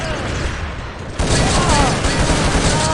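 Grenade blasts and gunfire in Urban Terror, a multiplayer shooter, heard as a dense loud burst of booms and shots that thickens midway, with game noise and a commentator's voice over it.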